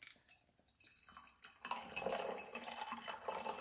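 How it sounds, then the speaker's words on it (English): A rosemary pomegranate gin fizz cocktail is poured into a glass: a soft start of drips, then a steady splashing pour of liquid from about midway, close and moderately loud with no talk. "So let's go ahead and pour this into our glass."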